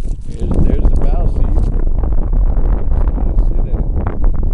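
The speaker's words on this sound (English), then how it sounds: "I know it's windy." Gusty wind buffets the microphone on a cold, windy day beside a canoe, a steady low rumble and roar that runs throughout the clip, with a person talking over it.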